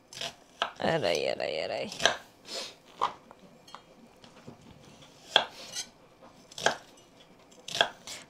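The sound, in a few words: chopping onion with a knife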